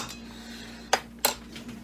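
Chicken pot pie filling stirred in a pot: two sharp metallic clinks of a utensil against the pot rim over quiet background hum, close and isolated.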